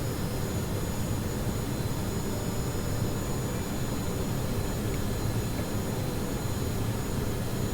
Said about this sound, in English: Ramjet's taking over.